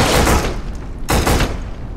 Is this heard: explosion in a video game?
yes